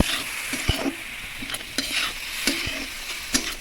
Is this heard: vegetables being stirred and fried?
yes